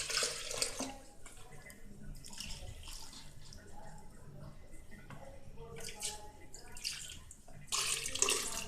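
Water pours steadily into a pot of groundnut soup, a continuous splashing stream close by with some drips, while a voice talks quietly at times.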